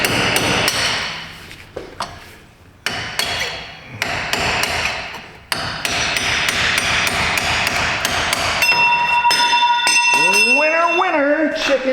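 Sharp metallic hammer strikes on a brass chisel pressing a front wheel bearing on a 2010 Toyota Corolla, loud and rapid in bursts, ending with a ringing tone and a brief squeal.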